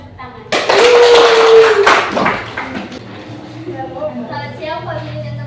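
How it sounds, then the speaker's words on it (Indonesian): Students in a classroom clap after a group presentation, a burst of hands that rises sharply then fades within about two seconds, followed by quieter room sound and a voice. "ayo semua tepuk tangan."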